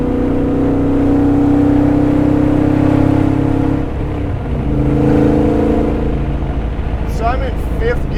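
A '63 Corvette Grand Sport with a 750 HP Lingenfelter LT4 engine drones steadily from inside the cabin while accelerating in fifth gear, loud and continuous, with a person talking over it.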